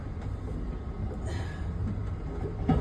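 Steady rumble and rattle of an Amtrak sleeper train in motion, heard from inside the sleeper room as a continuous low rolling drone with a brief knock near the end.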